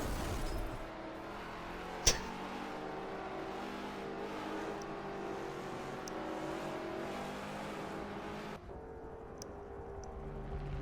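Race cars roar around a track in a continuous, loud engine drone, with a sharp crack early on and a sudden cut in the sound near the end.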